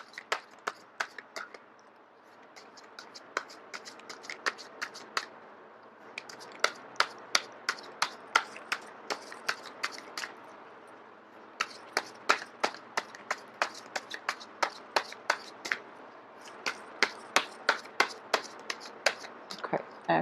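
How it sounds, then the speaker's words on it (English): A deck of tarot cards is shuffled by hand, giving bursts of quick, crisp card slaps and clicks in an uneven rhythm. Brief pauses separate the bursts, and the sound is close and clear. "I am going to shuffle until the first card drops out"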